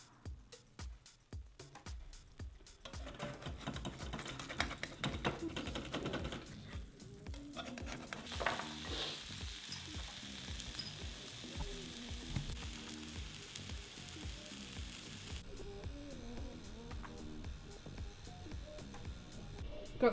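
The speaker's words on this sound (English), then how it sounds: "I'm gonna get some spinach and just wilt that in this pan" Spinach wilting in a hot frying pan, a continuous crackling sizzle with rapid scraping and stirring taps, close but fairly quiet, the texture shifting as the leaves cook down.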